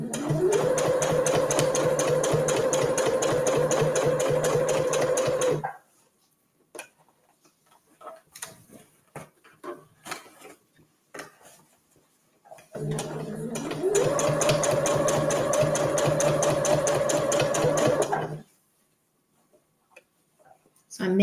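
A sewing machine stitches the lining and outer fabric of a reusable gift bag in two steady, even runs of a few seconds each, with a fast rhythmic hum and clatter and quiet handling sounds in the pause between them.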